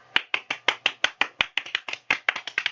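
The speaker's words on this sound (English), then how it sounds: "We're clapping for you." A small group of people clapping: about twenty sharp, close handclaps in a quick, slightly uneven rhythm over under three seconds, with no talking.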